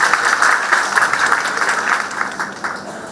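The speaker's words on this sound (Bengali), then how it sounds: "আজকে একটা জোর করতালি চাইব" Loud, steady applause from an audience at a women's tourism leadership award ceremony in Cox's Bazar, with dense clapping filling the whole stretch without pause.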